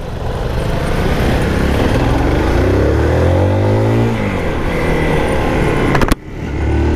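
A Zontes R 350 motorcycle accelerates hard on a test ride at a launch event, its engine loud and close as the pitch climbs steadily through the gears, then a brief abrupt cutoff near the end before it continues.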